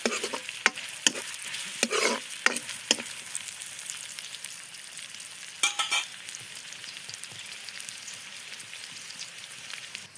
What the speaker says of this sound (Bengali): তেলটা হয়েছে, গরম হয়েছে, পেঁয়াজটা ভাজা হয়েছে